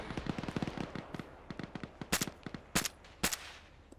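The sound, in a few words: gunfire in a military video game (Arma)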